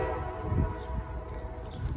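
A Norfolk Southern freight train passes on a CSX line, giving a steady, close rumble with a low rolling drone and a faint tonal hint throughout.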